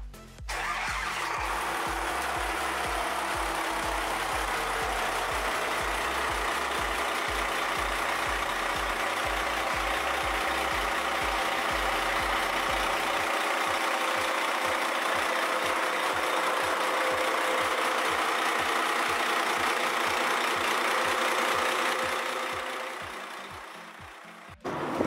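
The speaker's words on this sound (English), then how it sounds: "Cursor 13 sounds like." A large FPT Cursor 13 marine diesel engine runs loud and steady up close on a boat, a deep rhythmic throb under a broad roar that fades near the end.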